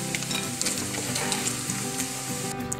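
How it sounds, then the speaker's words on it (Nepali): Cumin seeds sizzle in hot oil left over from frying paneer for matar paneer, a dense, loud, continuous crackling fry with occasional stirring scrapes and no talking. "अघि पनिर फ्राई गरेर बाँकी रहेको तेलमा मैले अब यसमा जिरा पुर्याउँदैछु"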